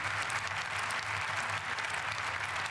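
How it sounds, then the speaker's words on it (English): An audience at a speech breaks into sustained, dense applause, a steady wash of many hands clapping throughout with no voices over it. "if you see who's applauding, who's not applauding, right now"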